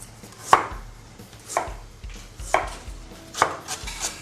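A knife chops ginger steadily on a cutting board, four or five distinct thuds at an even pace, close and fairly quiet.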